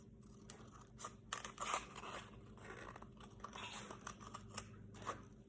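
Scissors cut a small U shape out of a paper giraffe leg, producing close, soft crunching snips in short irregular bursts, with light paper rustling between cuts.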